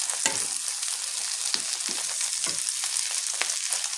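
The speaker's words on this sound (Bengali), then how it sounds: "আমি এখন চিংড়ি মাছ রান্না করতেছি বন্ধুরা। চিংড়ি মাছ ভাজতেছি" Shrimp fry in a pan with a steady, close sizzle, broken by scattered scraping and stirring clicks, and no talking.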